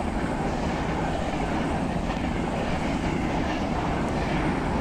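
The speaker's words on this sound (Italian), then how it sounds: "Raga, abbiamo un treno in croce." A class E.464 locomotive hauls a passing regional train in Train Simulator on the Milano Centrale to Bologna route, a steady, loud rumble of wheels and motor that holds evenly throughout with no speech.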